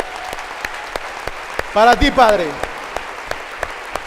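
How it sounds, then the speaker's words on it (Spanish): Applause during a church service: a run of evenly spaced claps, with a voice briefly speaking over them midway. "Dale un aplauso al Señor."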